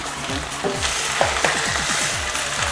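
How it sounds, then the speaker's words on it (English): Food seasoned with chicken bouillon sizzles steadily as it is stir-fried in a hot pan while a utensil scrapes and stirs in quick repeated strokes, close and fairly loud. "So like I'm just, you know, stir frying it right now."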